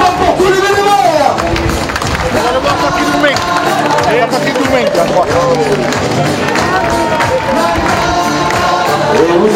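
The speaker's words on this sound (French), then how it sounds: "applaudissements pour tous les bénévoles" Spectators at a French senior pétanque championship applaud the volunteers, loud sustained clapping mixed with crowd chatter and a voice speaking over it on a public address system throughout.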